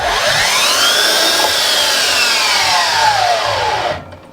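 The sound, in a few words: Makita DLS211Z 36V slide miter saw running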